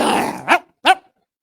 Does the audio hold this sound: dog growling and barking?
yes